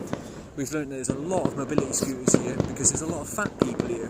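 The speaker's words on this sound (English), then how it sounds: "You can probably hear the fireworks in the background there." Fireworks bursting over Epcot at Walt Disney World, Florida, heard as scattered sharp pops and distant booms in the background beneath steady close-up speech.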